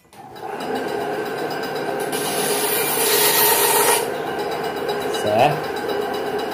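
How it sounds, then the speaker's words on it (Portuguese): A band saw cutting away excess wood from a partridge call, a continuous rasping whine that swells in the middle and then eases, close and loud. "Vou cortar esse excesso, fazer isso aqui na serra de fita, para ser mais rápido."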